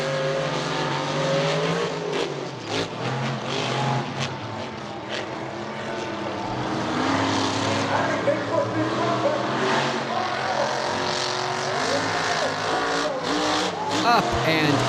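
Monster trucks including Bad Company and Bigfoot roaring around Charlotte Motor Speedway at a back-to-school event, loud continuous engine revving with a crowd and an announcer talking over it throughout.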